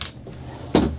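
A drawer in a 2027 Jayco Eagle 312BHOK travel trailer slides and knocks shut, a short soft scrape followed by a sharper close thump, near and alone.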